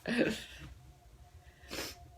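A sharp sneeze bursts out near the start, followed by a quieter breathy snort or sniff a moment later.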